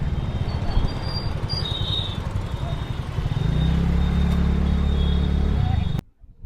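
A scooter on the Kalyani Expressway gives a continuous engine drone and road rumble with wind buffeting, steady and close throughout, then cuts off abruptly near the end.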